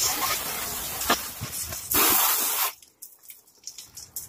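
Bed liner coating sprayed over a Jeep Wrangler and its wiring, a loud hissing spray that runs in bursts and then stops abruptly, leaving faint rustling and knocks.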